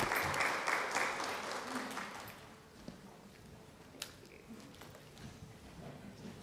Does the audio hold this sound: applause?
yes